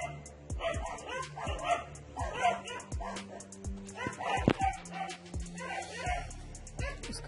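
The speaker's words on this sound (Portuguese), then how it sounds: "Os cachorros estão com medo, estão nervosos." Several frightened dogs yip, bark and whimper in repeated bursts during an approaching storm, fairly close, with a person talking intermittently in between.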